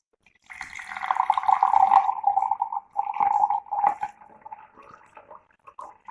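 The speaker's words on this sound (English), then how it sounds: "Now I am decanting this water into" Water is poured from one glass into another, a steady trickling stream that breaks into splashes and drips as the pour slows and stops, close and alone.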